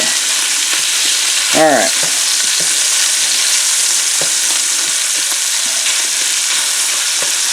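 Sausage browning in a frying pan gives a loud, steady sizzle with occasional scraping stirs, and one person speaks briefly over the constant frying.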